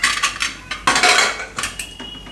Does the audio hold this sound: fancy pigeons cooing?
no